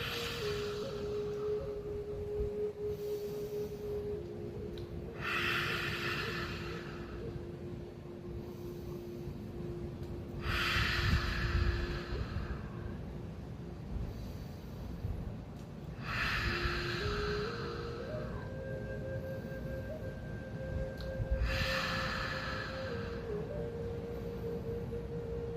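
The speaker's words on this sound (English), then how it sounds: "Nice deep breath in and exhale" Slow, deep breaths are taken in and let out through a wide-open mouth as a breathing exercise. About five rhythmic airy exhales rise and fall over a steady low background hum, and no speech is heard.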